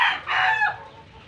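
A red rooster crowing nearby outdoors, a single short bright crow with a rising then falling call, loud and clear with no talk over it.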